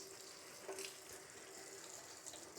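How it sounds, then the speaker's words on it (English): Hot tap water runs steadily over a GE microwave exhaust filter, flowing from back to front as a soft, even faint splashing with a few small surges. "Let's let the water run from the back side towards the front."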